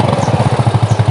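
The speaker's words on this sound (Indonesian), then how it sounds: "suara knalpotnya tuh ciri khas banget Boda C70" A 1981 Honda C70 motorcycle idles, its exhaust giving a rapid, even, deep putter of pulses, close and loud.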